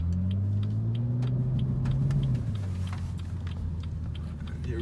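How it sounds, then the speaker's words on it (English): 2016 BMW M235i in sport mode: a low, droning exhaust note rises slightly in pitch, then eases back, with faint clicking sounds from inside the cabin. "put this thing in sport mode. Listen to that great exhaust sound as you can hear"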